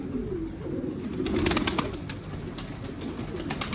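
Pigeons cooing at a loft, low soft coos under a light outdoor backdrop with a few sharper rustles, moderately faint and alone.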